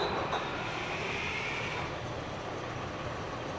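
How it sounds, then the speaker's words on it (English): Diesel engine driving a generator through a shaft and flywheel as it starts and slowly comes up to speed, a steady low rumble and whine at moderate distance with no talk. "Diesel's coming up to speed. It comes up a lot slower because it has to bring up the shaft with it and the generator."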